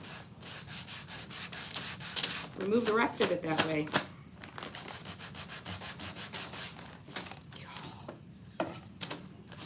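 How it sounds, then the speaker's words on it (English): A sanding block rubs and scrapes over paint on a wooden winter door hanger in repeated close strokes, rough and gritty, with a person talking over part of it. "Maybe I just keep going with my sanding block"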